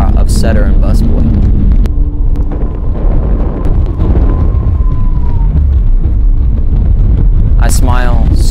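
Strong wind roars across the snowy summit of Elk Mountain, a loud, constant buffeting rush on the microphone, with brief voices at the start and end.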